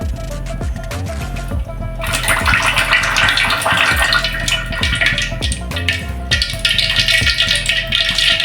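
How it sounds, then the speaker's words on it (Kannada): Pure groundnut oil pouring into a pan for tomato rice, a loud steady liquid rush building after a quieter start and continuing to the end. "ಮೊದಲಿಗೆ ಎಣ್ಣೆ ಹಾಕ್ಕೊಳ್ಳಿ."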